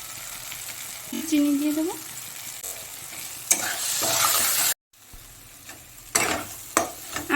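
Prawn stuffing for potol dolma frying in a pan, a steady broadband sizzle with occasional scraping stirs and a brief dropout midway; a voice speaks briefly near the start.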